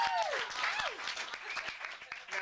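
Audience applause at a comedy magic show's three-rope trick, a dense steady burst of clapping that holds for a couple of seconds with a brief sweeping voice over it.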